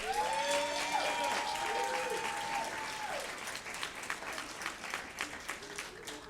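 Live audience applauding storytellers who appeared on stage at a leadership event, with musical notes from a guitar or keyboard sounding over the first half before dense clapping carries on alone and gradually thins out.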